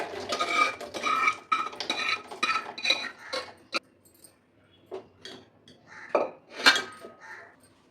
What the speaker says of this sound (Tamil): போட்டு வேறு பாத்திரத்துக்கு ட்ரான்ஸ்ஃபர் பண்ணிடுவோம்